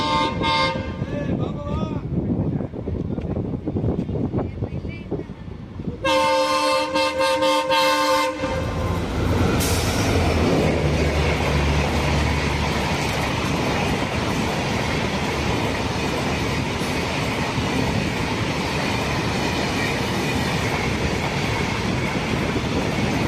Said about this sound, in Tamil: டீசல் இன்ஜினோட மாசாக வருவான் பாருங்க.